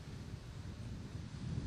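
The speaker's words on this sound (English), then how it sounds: "I can tell you it's windy out here." Wind buffets a microphone outdoors on a cold winter day as a steady low rumble, loud and close, with no other sounds.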